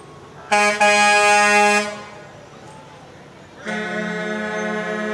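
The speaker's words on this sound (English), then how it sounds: "Big rig coming down the aisle here." A big rig truck's air horn blares in a 4th of July parade in Waupaca, Wisconsin: two loud, close, sustained blasts separated by a short gap, over background crowd noise.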